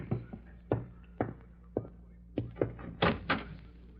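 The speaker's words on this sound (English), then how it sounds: "Someone's at the door." Knocks on a wooden door in an old radio drama, a series of separate thuds spaced out over a few seconds with a couple of faster double raps, close and fairly quiet, with no voices.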